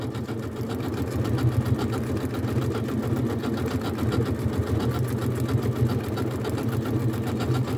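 A Janome sewing machine stitching along the edge of a ribbon, a steady rapid mechanical whirring and ticking of the needle, close and continuous with no pauses or talking.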